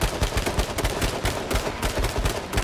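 Rapid automatic gunfire in the battle royale game H1Z1, a steady stream of sharp, evenly spaced shots close by, loud and uninterrupted for the whole stretch with no talking.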